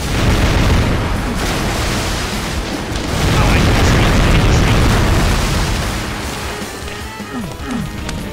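Dense, sustained booming blasts and roaring fire from the fire cannon weapon in Final Doom, loud and continuous throughout, swelling midway with a rumbling low end.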